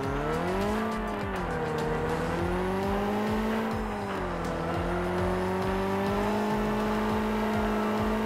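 Engine of a Tuatara sports car in PUBG Mobile, a sustained rising and falling whine as it accelerates and eases off, close and loud with occasional tire noise and no talking.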